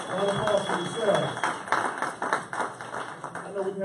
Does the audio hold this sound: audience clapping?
yes